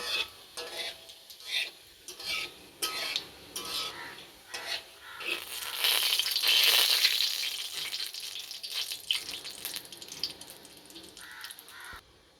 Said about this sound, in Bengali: এবার কিছুক্ষণ হালকা করে এটাকে ভেজে নেব